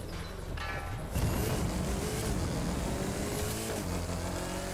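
Porsche Cayenne Turbo GT engine in The Crew 2 racing game, revving hard and steady, loud and close, rising in pitch with gear changes through a racing run, with no talking.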